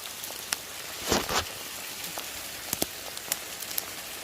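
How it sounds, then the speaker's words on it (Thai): Hail falls in scattered sharp ticks and clicks over a soft, steady patter, fairly quiet with a few louder hits standing out. "ตกมาเป็นลูกเห็บเลยอะ"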